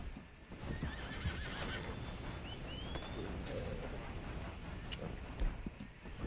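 Horse neighing with a whinny and clip-clop hooves in Red Dead Redemption 2, hoofbeats running steadily throughout with a clear neigh early on, birds faintly in the background.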